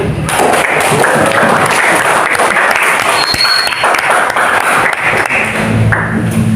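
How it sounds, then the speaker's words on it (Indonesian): A classroom of students claps together in a sustained burst of applause, loud and close, with the clapping dense and even before it tapers off near the end. "Beri aplaus semuanya."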